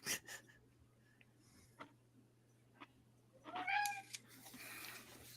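A cat meows a couple of times in a short rising call amid a quiet room, with faint clicks and rustles around it and no talking.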